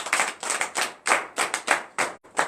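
A congregation at a morning prayer service in Comè, Benin, claps in a rhythmic pattern of close, sharp, grouped hand claps with brief gaps between bursts.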